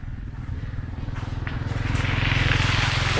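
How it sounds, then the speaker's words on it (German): A motorcycle riding through Thailand, its engine giving a steady low throbbing pulse that builds louder toward the end, with wind noise but no talk. "Ich in meinem Fall nehme natürlich mein Motorrad"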